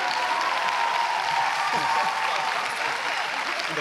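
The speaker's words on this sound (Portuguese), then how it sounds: "Uma salva de palmas para ele, salva para vocês." Steady audience applause at a student graduation ceremony in Braga, dense clapping at an even level throughout with some faint voices mixed in.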